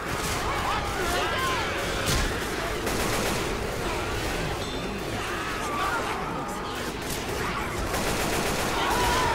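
Rapid gunfire in a Left 4 Dead 2 match, sustained bursts and shots running through the whole stretch, loud and busy, with clattering impacts and players' voices mixed in.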